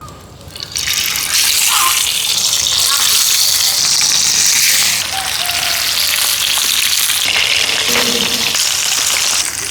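Spice-coated rupchanda pomfret fish frying in a pan, a loud, steady crackling sizzle with bright hissing bursts that keeps going for nearly ten seconds.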